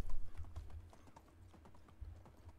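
Donkey hooves clip-clopping in the medieval survival game Medieval Dynasty, a steady run of light rhythmic hoof knocks with a few heavier thuds, heard alone at moderate level.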